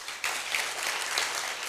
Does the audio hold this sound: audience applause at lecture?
yes